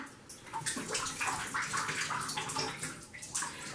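Water from a home shower runs steadily in a steamy bathroom, a continuous close hiss and splash with uneven spattering throughout.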